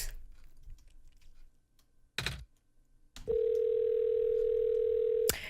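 A steady phone ringback tone from the video game OneShot, heard as one continuous loud tone after a few clicks, with the call going unanswered.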